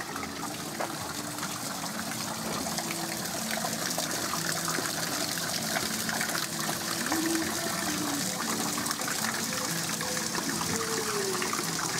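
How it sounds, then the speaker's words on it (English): Steady rushing water from a waterfall pours continuously into a fountain pool at a garden centre, a broad close splashing roar with faint voices in the background. "refreshing waterfall underneath him"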